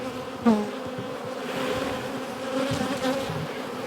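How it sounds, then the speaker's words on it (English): Steady, continuous buzzing of many honeybees close by in a hive box, a dense droning hum with a few louder individual passes. "Well, Oscar, looks like you got a few bees in that box."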